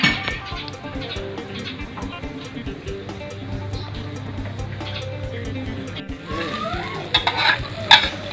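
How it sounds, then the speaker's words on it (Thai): Garlic fries in oil in a pan for Thai pork noodle soup, a steady sizzle with stirring scrapes and clinks of a utensil against the pan, louder clatter near the end. "หมูกรอบแล้วก็เอามาเจียวกระเทียมครับ"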